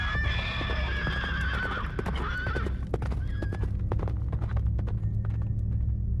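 A horse whinnies loudly, a long wavering neigh and then a shorter second call, over steady clip-clopping hooves and a low rumbling background, as a sound effect.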